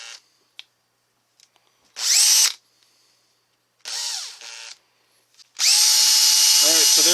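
A rotary tool fitted as a drill burnisher spins up in several short bursts of high-pitched whine, separated by quiet gaps with small clicks, ending in a longer sustained run.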